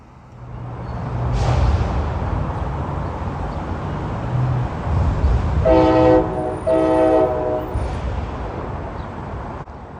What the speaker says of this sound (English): Get to hear his nice K5LA horn.